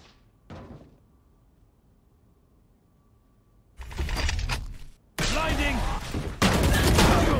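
Gunfire from the tactical shooter Valorant during a competitive esports semi-final, with a faint early shot, then loud bursts of rapid fire and impacts filling the last few seconds.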